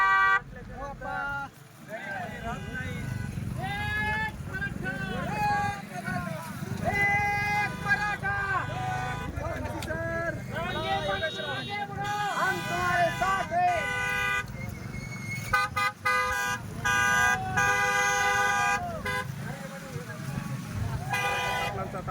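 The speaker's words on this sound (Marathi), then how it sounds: "हा हजारो गाड्यांचा ताफा जरा पाटलांसोबत होऊ शकताय" A convoy of thousands of vehicles on the road to Narayangad honks almost nonstop, with many car and truck horns overlapping in long, loud, tonal blasts over engine rumble while people talk and call out amid the din.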